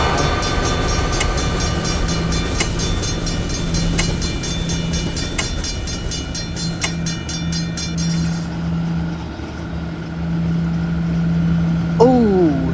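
A train rolls through a level crossing in the Railway Crossing Creator game, with a steady rumbling mix, repeated clicking wheel beats and a tonal crossing bell, and a sharp high squeal near the end, while someone talks over it.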